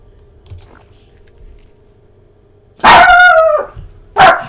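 A dog named Buster barks loudly and close by, one long harsh bark followed by a shorter second bark, after a quiet stretch.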